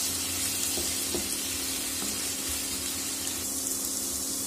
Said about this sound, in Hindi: ये देखिए मैंने सारा आलू डाल दिया है। अब मैं इसको फ्राई करूंगी।